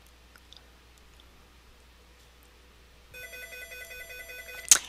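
A telephone ringing in a quiet room, an electronic trilling ring that starts partway through and repeats in a steady warbling pattern, followed by a sharp click at the end.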